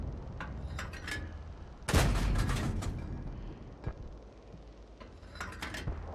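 In a tank video game, an M4 Sherman fires its main gun once: a loud, sharp blast with a rumbling decay, set among lighter mechanical clicks and distant thuds.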